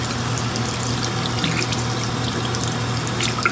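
A makeup brush is rinsed under a steady stream of running tap water, a continuous close splashing rush with a low hum underneath, no voices.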